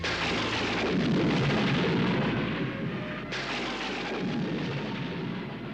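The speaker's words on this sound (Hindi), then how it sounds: "अचानक ये बिजली कैसे कड़की?" A thunder crack of lightning used as a TV drama effect rolls as a loud, sustained rumble. A sharper burst comes about midway, then the roar continues heavily to the end with no speech.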